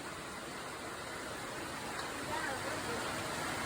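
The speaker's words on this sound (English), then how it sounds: "it's raining pretty hard" Heavy rain pours outdoors in a steady, dense hiss that holds constant and close throughout, with no talk over it.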